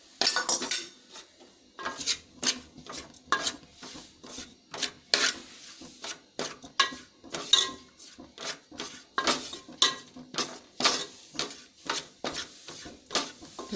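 Chickpea flour dry-roasted without oil in a pan for zunka, stirred with a utensil that makes repeated scraping and clinking strokes against the metal in an irregular rhythm, close and moderately loud.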